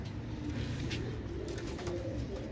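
Royal Teddy pure-breed pigeons coo softly and steadily in a loft, low murmuring calls running continuously through the whole stretch with no voices over them.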